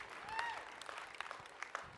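A church audience claps briefly, a soft, thin patter of scattered hands at some distance, with a voice rising over it.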